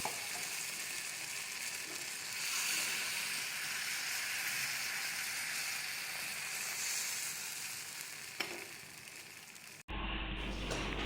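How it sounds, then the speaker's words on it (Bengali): Gola ruti batter flatbread with onion and chili sizzling steadily in a pan, a close, even hiss of frying that runs on alone before a brief clatter and a cut near the end. "এখানে দেখতেই পাচ্ছ গোলা রুটিটা বানাচ্ছি"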